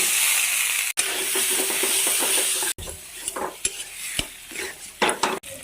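Potatoes added to frying spices and chilli powder in a home kitchen pan, stirred with a metal spoon, giving a soft sizzle broken by repeated close scraping and clinking strokes.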